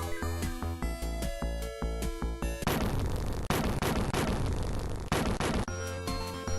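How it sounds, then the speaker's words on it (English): Bomb squares on a grid blow up one after another in the retro video game Trampoline Terror, a burst of loud noisy crashing explosions breaking into a tonal chiptune melody, with the music resuming afterward. "You walk around the grid, blowing up each one of the bomb squares by walking over them."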